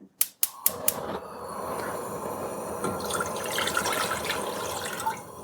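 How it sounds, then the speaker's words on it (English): Two cups of water pour into a pot for homemade cream of chicken soup, a steady splashing fill after a few sharp clicks and knocks at the start, close and alone without talk. "First, we start off with 2 cups of water."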